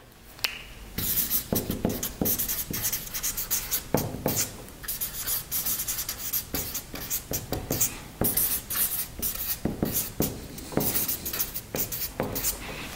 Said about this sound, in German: ich schreibe es sicherheitshalber nochmal auf